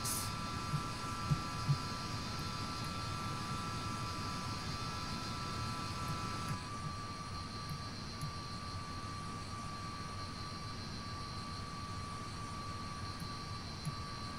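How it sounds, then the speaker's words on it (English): Steady, fairly quiet drone of a de Havilland Comet jet airliner's engines in a flight simulator, a constant whine and rumble that drops slightly in tone partway through and holds an even level throughout. "Why is the engine so low, so quiet?"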